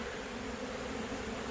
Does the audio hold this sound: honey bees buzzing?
yes